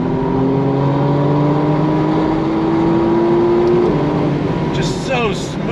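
A 2025 McLaren Artura Spider supercar accelerates hard in first gear, its engine tone climbing steadily toward the red line before a quick upshift, loud and continuous, with a voice exclaiming over it near the end.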